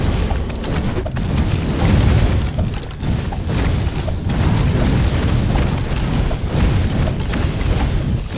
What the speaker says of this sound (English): More fire means more explosions.